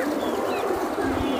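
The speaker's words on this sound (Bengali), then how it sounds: "হ্যাঁ, গ্রে কবুতর।" A grey Giribaz pigeon coos softly amid a noisy loft setting, with a continuous murmur of background sound and low rumbling throughout the short moment.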